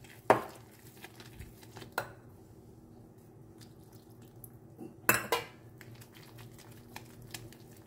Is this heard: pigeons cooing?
no